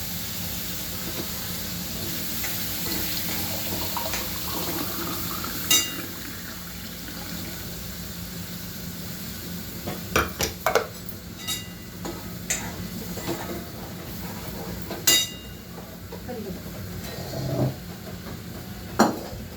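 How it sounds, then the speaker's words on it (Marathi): Water running and splashing in a mixer jar as it is rinsed out, a steady hiss of flow with occasional sharp clinks and knocks from the jar, close and without speech. "हे भांडं असं मी धुवून राहत असते मिक्सरचं वाटलेलं"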